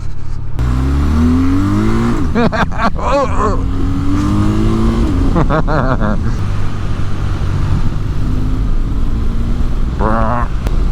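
A 2024 BMW R12 motorcycle engine drones loudly and steadily while riding, its pitch rising and falling with throttle changes over a constant wind rumble.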